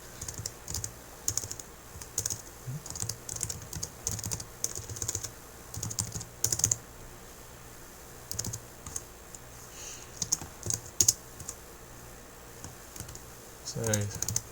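Fingers type code on a computer keyboard in steady, close bursts of clicking keystrokes with short pauses, continuing for about fifteen seconds.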